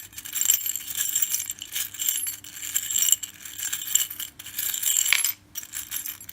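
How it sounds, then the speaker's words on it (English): Small metal charms clink and rattle continuously in a bowl, a bright jangling shuffle with brief pauses, close up and with no talking. "I would basically give the charms a shuffle"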